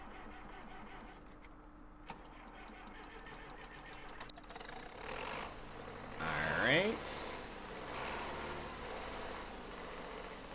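A tractor engine in the Farming Simulator 2013 game cranks and catches, then settles into a steady idle. Someone talks briefly over it.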